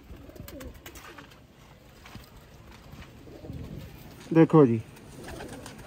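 Sialkoti pigeons coo in a brief, loud burst close by near the end, after quieter bird sounds and someone speaking softly in the background.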